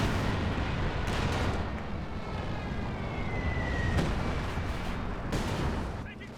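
Mortar strikes land on a battlefield in Company of Heroes 2, heavy booming impacts over a loud, continuous rumble of combat with sharper blasts cutting through at intervals.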